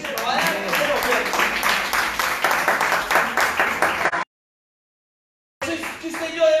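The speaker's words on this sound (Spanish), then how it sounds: "denle un aplauso al Señor" A church congregation claps during a sermon, with voices mixed in; the sound cuts to complete silence for over a second, then resumes briefly.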